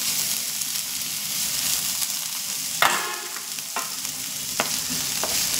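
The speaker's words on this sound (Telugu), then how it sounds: "ఉల్లిపాయ, పచ్చిమిర్చి బాగా వేగిపోవాలి." Onion and green chili fry in oil, a continuous close sizzle with a few sharp scraping stirs and clinks standing out over the crackle.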